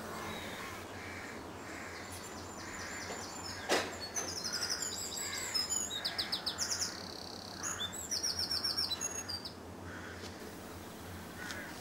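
Wild birds chirping and cawing outdoors in the countryside, crow-like calls and busy tweets over a constant wash of background noise, several bursts of calls clustered in the middle of the clip, with no talking.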